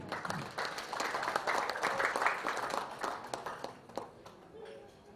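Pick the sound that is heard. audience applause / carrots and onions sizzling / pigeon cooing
audience applause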